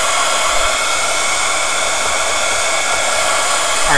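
A hair dryer blows steadily and loudly for the whole stretch, heat-setting a damp fabric flower, a constant even broadband whoosh with no talk.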